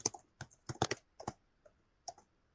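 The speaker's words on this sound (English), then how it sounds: "Typing live." Live typing on a computer keyboard, a sparse run of quick key clicks in small bursts with short pauses, close and fairly quiet with no voices.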